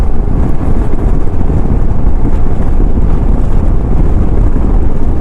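Heavy wind buffets a microphone on a moving motorbike carrying a pillion passenger. It makes a loud, constant low roar with no pauses, and no voices come through.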